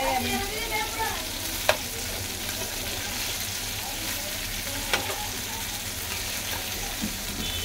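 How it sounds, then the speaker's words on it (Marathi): Tilapia pieces fry in a pan until crisp, with a steady, close sizzling hiss, two sharp clicks from the pan, and a low hum underneath. "या साईडला मच्छी फ्राय होती आहे।"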